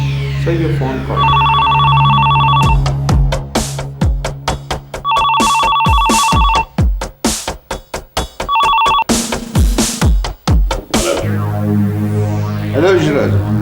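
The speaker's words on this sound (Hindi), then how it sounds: "सर, ये फोन कॉल।" A telephone rings in short repeated electronic bursts, in three spaced rounds, loud and close in a Pakistani TV drama scene, amid music and other sounds.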